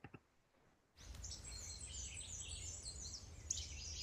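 Birds singing outdoors, picked up on a phone: after a quiet start, a continuous chorus of chirps and tweets over low rumbling background noise.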